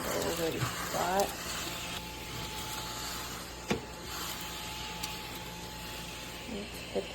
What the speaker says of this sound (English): It's literally just a counter vacuum. You can turn it on, go over the spot.